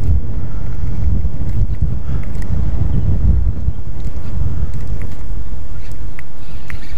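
Heavy wind buffets the microphone continuously on a windy spring day of shore bass fishing, a loud low rumble with gusty roars throughout, over faint water sounds.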